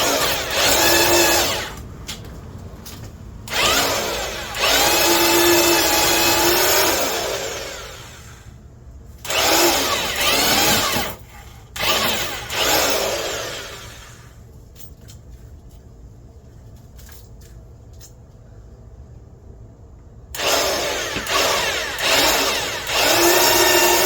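A Vevor electric post hole auger drilling a 6-inch hole in the ground gives loud bursts of motor whine and churning that start and stop several times, separated by quieter pauses.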